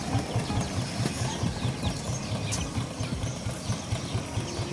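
A small trawler boat's engine idles nearby at a Sundarbans riverside, putting out a rapid, steady low chugging pulse that holds evenly throughout.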